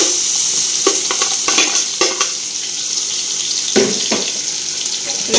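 Garlic ginger paste sizzles and fries steadily in a pan, with a spoon stirring and scraping in irregular bursts over the hiss.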